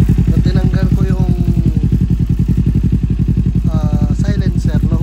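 A Kawasaki Eliminator 450 fitted with a Yoshimura R77 aftermarket exhaust idles nearby with a loud, even, rapid low pulsing beat, while someone speaks over it.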